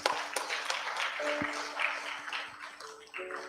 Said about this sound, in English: Give our Pandits a big round of applause.